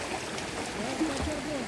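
A river in El Salvador flows steadily with a continuous rushing, gurgling wash, close and moderately loud, while muffled voices sit low in the background.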